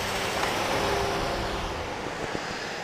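A truck rolls along a road behind a cyclist on the Upper Humber River Trail, giving a steady, loud broadband rumble and tire roar with wind noise throughout and no gaps.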